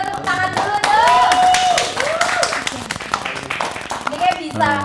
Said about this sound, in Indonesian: Coba tepuk tangan dulu dong.